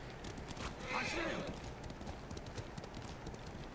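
Horse hooves clip-clop in the video game Ghost of Tsushima, a quiet, rapid patter of steps with a brief whinny partway through, set against faint ambient game sound.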